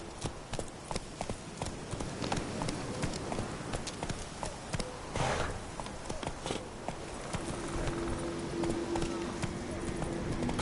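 Horse Roach gallops through The Witcher 3, hooves clip-clopping in a steady rapid rhythm under game ambience, with a voice speaking over it and a faint buzzing tone in the latter half.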